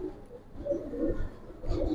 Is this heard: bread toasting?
no